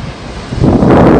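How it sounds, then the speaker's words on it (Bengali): Surf rolling in on the open beach at Bakkhali, a low steady roar that swells louder halfway through, mixed with strong wind buffeting the microphone; no voices. "সমুদ্রের আওয়াজ পাচ্ছি অলরেডি"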